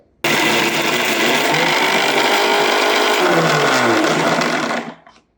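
A mixer grinder runs dry, grinding roasted onion masala with no water: a loud, steady motor whine that starts abruptly, holds for about four and a half seconds, then winds down and stops.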